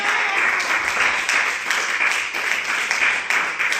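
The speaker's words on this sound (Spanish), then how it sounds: "Dale un aplauso al que vive." A crowd applauds steadily throughout, a dense wash of many hands clapping at even strength with no voices above it.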